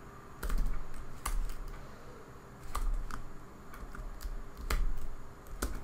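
Typing on a computer keyboard while writing code, quiet close key clicks in irregular bursts with short pauses, no talking.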